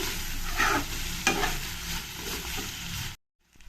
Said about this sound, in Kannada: ಎಲ್ಲನೂ ಎಣ್ಣೆಲಿ ಒಂದು ಸ್ವಲ್ಪ ಒಂದು ಸಿಕ್ಸ್ ಟು ಸೆವೆನ್ ಮಿನಿಟ್ಸ್ ಚೆನ್ನಾಗಿ ಫ್ರೈ ಆಗಬೇಕು